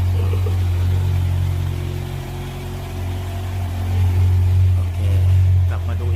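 A Kawasaki Z1000 fitted with an SC Project carbon conic exhaust revs steadily around 3,000–4,000 rpm, its loud low engine rumble swelling and easing over several seconds, with someone talking over it.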